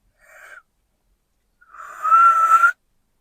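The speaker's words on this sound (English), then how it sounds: "I can suck the air in, and sometimes it'll sound like a whistle" A short airy whistle, then a longer, steadier breathy whistle made by drawing air inward, close and fairly loud.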